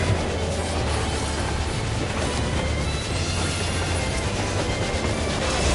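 A train boss battle in Final Fantasy XIV: Endwalker, heard as a dense, steady rumbling roar of rail noise and mechanical clatter, loud and continuous throughout with no talk over it.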